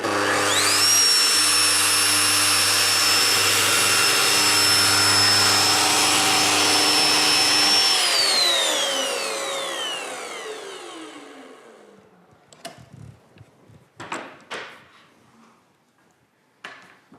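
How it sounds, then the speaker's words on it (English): A Festool router mills a V groove in aluminium composite panel with a loud, close, high-pitched whine for several seconds, then the motor spins down with a falling tone, followed by a few scattered clunks and handling knocks. "The groove was milled successfully."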